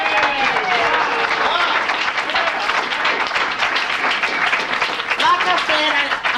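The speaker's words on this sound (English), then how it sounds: "Give a big round of applause for Mr." A crowd applauds for a three-time champion finalist at a Texas tall-tale competition, dense sustained clapping filling the room for several seconds while a voice calls out over it.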